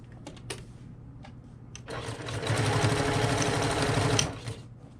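Sewing machine stitching fabric for a tote bag: a few handling clicks, then one sustained close run of rapid stitching lasting about two seconds before stopping.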